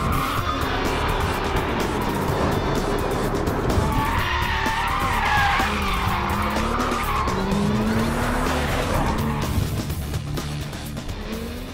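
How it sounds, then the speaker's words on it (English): A 620-horsepower Porsche 911 GT2 RS with ceramic composite brakes brakes hard at Silverstone, tires squealing in long wavering howls over loud engine roar, with no talking. "PCCB Porsche composite ceramic brakes are standard, as you would expect, on a car with 620 horsepower."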